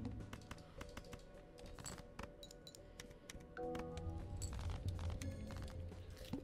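Quick, sharp computer clicks and taps, close and fairly faint, firing in irregular bursts while a Balatro game is being modded and played.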